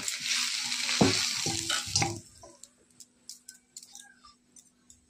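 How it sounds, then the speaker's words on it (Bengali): Fried cauliflower and potato pieces sizzle in hot oil in a pan, a busy crackling hiss that fades after a couple of seconds into sparse clinks and scattered drips, close and fairly quiet. "কপি আলুগুলো ভেজে নিয়েছি, এখন এগুলো তুলে নেব"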